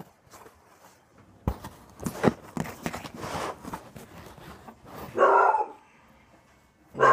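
Dogs bark in a few short bursts, with footsteps and household movement before them; the bursts are loud and close, and the last one cuts off at the end.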